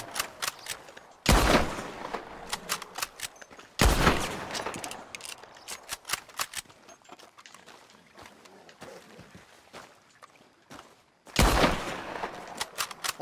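Gunfire crashes out in Red Dead Redemption II: three loud, sharp bursts of shots are spaced apart. Quieter game ambience and scattered small impacts fill the gaps between them.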